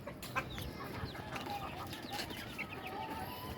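Chickens cluck softly and intermittently, with faint pecking ticks, all fairly quiet and distant.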